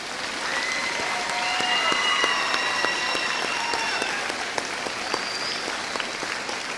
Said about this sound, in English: Please give one more round of applause to our veterans.